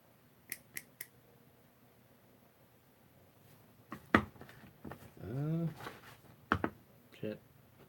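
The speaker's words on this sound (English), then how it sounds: "I'm cutting pieces out" Plastic parts of an HG Shaldoll Rogue Gunpla model kit are snipped from the runner, producing three sharp, close clicks early on, followed by someone talking with more scattered snips.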